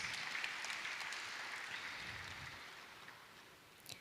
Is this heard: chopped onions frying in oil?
no